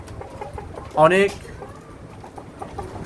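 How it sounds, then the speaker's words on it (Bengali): Australorp hens and roosters in cages while feeding, with a brief loud cluck or crow-like call standing out over a low hum and someone talking throughout. "এই যে অষ্টলাভ মুরগিগুলো খাবার খাচ্ছে"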